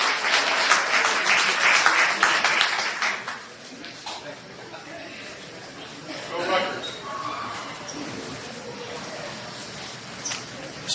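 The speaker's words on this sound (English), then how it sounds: "let's just give them all a round of applause for getting up and presenting in front of this crowd" A crowd at a community congress meeting claps loudly for presenters at first, then the applause thins and fades into scattered claps and murmuring voices.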